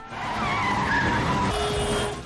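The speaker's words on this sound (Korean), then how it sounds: "드리프트 정도는 똥차라도 손쉽게 해버리고" Car drifting in a spy film chase, a long loud tire squeal that swells and holds steady over engine roar before easing off, with no talk.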